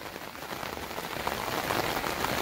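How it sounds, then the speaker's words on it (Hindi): Heavy rain pours onto the lake at Nainital, a dense, even hiss of countless drops striking water with no voices. "और बहुत तेज बारिश होने लगी है।"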